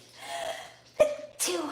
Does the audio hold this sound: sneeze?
yes